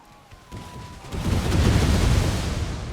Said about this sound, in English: Here comes the grenades.